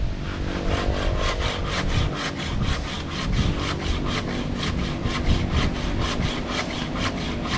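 A hand saw cuts through wood in steady, rapid back-and-forth strokes, close and continuous for several seconds with no talking.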